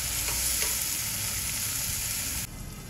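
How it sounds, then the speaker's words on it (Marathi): Tomatoes sautéing over browned onions in a pan for a fresh cashew curry, a loud close sizzle with a few stirring scrapes that drops in level near the end, with no voices. "टोमॅटो छान इजी होईपर्यंत परतून घेऊया."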